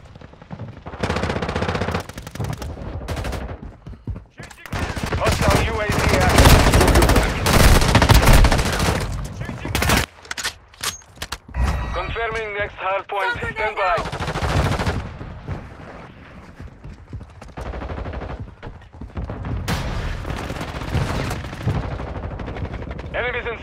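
Sustained automatic gunfire and bursts of shots from the Warzone Mobile first-person shooter, loud and dense through most of the clip, with a few shouted in-game voice callouts mixed in.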